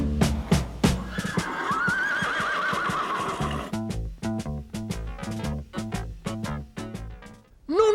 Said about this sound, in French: Oh, le beau cheval.